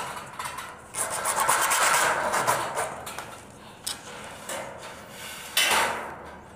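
Electrical conduit pipe for false ceiling wiring being cut with a hand saw, giving steady rasping strokes in bursts of a second or two, close and fairly loud with brief pauses between passes.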